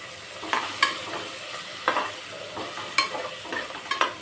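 Spices, pepper-cumin powder and chillies are stirred and sautéed in a pan, with a soft background sizzle broken by sharp, irregular clinks and scrapes of a spoon against the pan.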